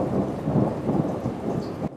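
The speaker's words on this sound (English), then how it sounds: "an impressive lightning strike in Rathdrum, sent to us by Jennifer Gold. We could see and hear it too" Thunder from a lightning strike during a storm, a loud, close, continuous rumble rolling through the whole stretch with rain hiss underneath, then cutting off abruptly.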